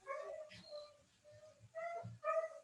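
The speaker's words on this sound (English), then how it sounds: "I can hear the dogs barking" Dogs barking at home in the background of an online chat, faint and distant, several scattered barks and yips under a low murmur.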